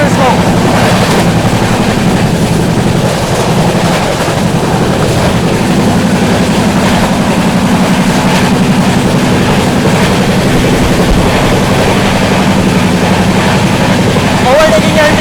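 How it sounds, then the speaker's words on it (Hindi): Patliputra Superfast Express 12141 overtakes the LTT Banaras Superfast Express with a loud, steady rumble and rushing wind noise heard from on board at high speed. "अपनी पाटलिपुत्र सुपरफास्ट एक्सप्रेस भीरपुर को ओवरटेक करने जा रही है"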